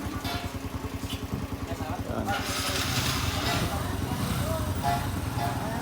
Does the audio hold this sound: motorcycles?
yes